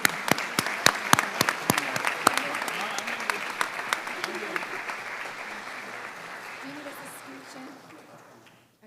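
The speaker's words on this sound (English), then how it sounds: "Let's give them a round of applause" An audience at an arts excellence awards ceremony applauds the nominees, starting with sharp individual claps up front that blend into a broad, steady ovation before tapering off near the end.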